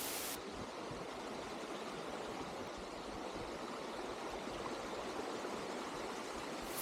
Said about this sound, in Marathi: पाण्याचा खळखळ करणारा आवाज कानांना अगदी तृप्त करतोय.